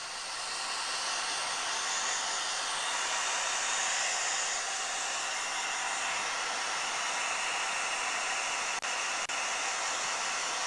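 A hair dryer blows steadily and loudly for about ten seconds while drying paint on a scale model, its airy roar continuous and alone, with only a couple of faint clicks near the end.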